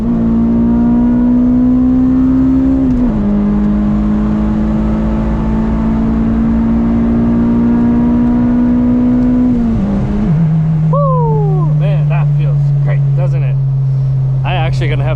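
An Acura RSX Type S fitted with a Hybrid Racing clutch master cylinder pulls hard on a wet road, its engine droning steadily up through the revs before a shift and a lower hum, heard close from inside the car.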